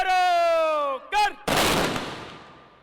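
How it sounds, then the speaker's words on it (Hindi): A ceremonial feu de joie rifle volley at an Independence Day parade, a single sharp crack with a long echoing decay, preceded by a drawn-out shouted parade command. "ये तीसरा हर्ष फायर है।"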